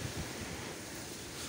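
Wind blows in a steady, faint, hissing rumble across the microphone for a brief moment, with no voices.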